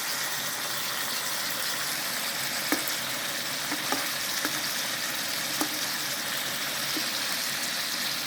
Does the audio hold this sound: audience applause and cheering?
no